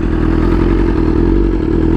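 A BMW S1000RR sport bike is ridden at a steady pace, its engine a loud, constant drone with a rattling, clattery edge and no pauses.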